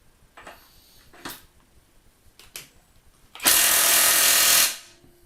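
RUYIKA 21V 460Nm cordless impact wrench runs in a single loud sustained burst of about a second, preceded by a few faint clicks and handling taps.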